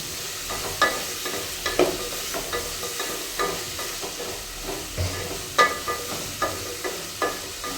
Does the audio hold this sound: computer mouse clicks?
no